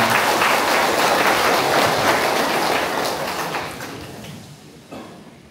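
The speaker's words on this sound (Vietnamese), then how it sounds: "Chúng ta hãy dành cho anh chị một tràng pháo tay thật là vào đây." A church congregation at a Catholic wedding Mass applauds the newlyweds, a loud, full burst of clapping that holds for a few seconds and then gradually dies away, with almost no talking.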